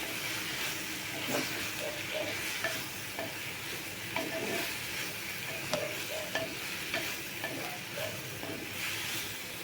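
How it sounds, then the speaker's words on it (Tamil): Fresh mint leaves sauté in a hot pan with a constant hissing sizzle. A spoon stirs them in regular scraping strokes against the pan. "இந்த புதினா தழை நல்லா சுருண்டு நல்லா வணங்கி வரணும்."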